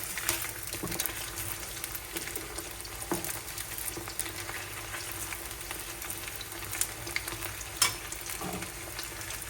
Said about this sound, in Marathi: कमीमध्येच फ्राय करून घेते.